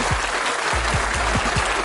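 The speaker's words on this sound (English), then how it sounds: "I got to give this guy a round of applause." A round of applause during a San Francisco 49ers NFL Draft review show: dense, continuous clapping, close and fairly loud, with a few low thumps underneath.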